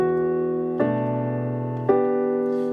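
Three sustained piano chords from Erik Satie's "Gymnopédie No.1" ring one after another, each new chord struck firmly as the previous one fades, with no talking.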